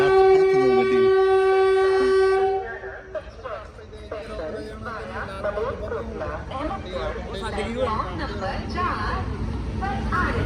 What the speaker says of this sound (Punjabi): ਟ੍ਰੇਨ ਆ ਗਈ ਆ